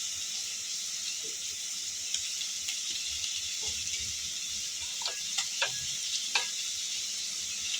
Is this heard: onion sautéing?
yes